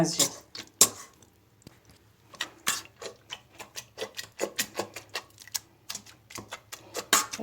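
Repeated soft squelching and tapping as cooked squash and potato are pressed and mashed in a pot, irregular close-up thuds, with a voice speaking quietly at times.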